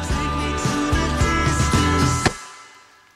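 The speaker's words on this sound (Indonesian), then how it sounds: "Musik yang kamu dengar ini sekarang dikompos oleh AI." Music composed by artificial intelligence plays on its own, a steady layered arrangement with sustained tones and a regular low rhythmic pattern, loud throughout before fading out near the end.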